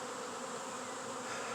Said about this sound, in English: This is probably the biggest swarm I've gotten this season so far.